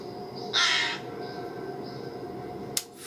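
A crow gives one loud, harsh caw in the video game Tokyo Dark, rising abruptly over a low ambient background and fading within half a second, followed later by a brief sharp click.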